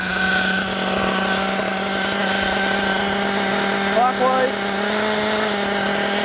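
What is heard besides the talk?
nitro RC car engine idling as the low-speed needle is adjusted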